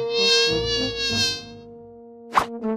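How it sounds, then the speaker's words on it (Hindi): A housefly buzzing indoors near someone drawing, a steady whining drone that wavers in pitch as it flies close, then fades before a brief sharper burst. "ओह, यह क्या है? मक्खी कहाँ से आई? मुझे उसे पकड़ना होगा।"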